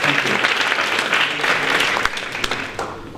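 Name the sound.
audience round of applause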